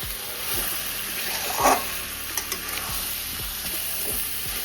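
Chicken frying in a pan sizzles steadily at close range, with a few brief stirring scrapes and clinks over a constant hiss; no one speaks.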